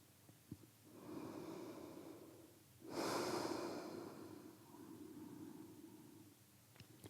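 Slow, deep yoga breaths drawn in and let out through the nose, close and soft, with one fuller exhale in the middle and no talk.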